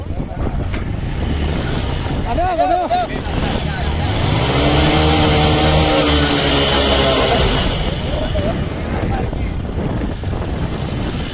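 A TVS Apache motorcycle engine revs loudly and sputters on a group ride, its rising and falling drone close and steady throughout, buffeted by wind noise with voices talking over it.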